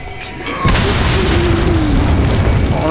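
A loud, deep in-game explosion booms in Resident Evil 4, starting half a second in and rumbling on with a sustained low roar to the end.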